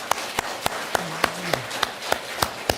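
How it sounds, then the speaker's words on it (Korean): Steady, evenly spaced claps, close and fairly loud, from a church congregation giving thanks during a special early-morning prayer service. "우리 하나님 앞에 감사의 박수 한번 올려드리겠습니다"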